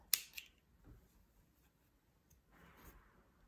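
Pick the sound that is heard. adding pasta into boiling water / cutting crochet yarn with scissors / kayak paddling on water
cutting crochet yarn with scissors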